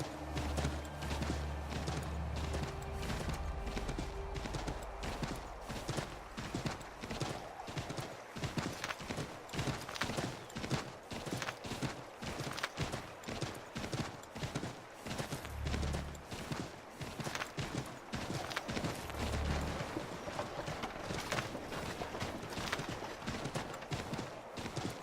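Galloping horse hooves in the video game Assassin's Creed 3, a loud steady clip-clop rhythm running throughout with occasional whinnies and game ambience.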